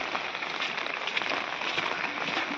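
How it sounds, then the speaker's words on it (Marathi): Steady rain falls across the Konkan countryside, a dense, even hiss of drops with no pauses, loud and close throughout. "पाऊस होतो भरपूर"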